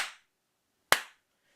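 A single sharp hand clap, made to trigger an Arduino Protoboard clap-on, clap-off circuit, rings out crisply and close in a quiet room, with the tail of a previous clap fading at the very start.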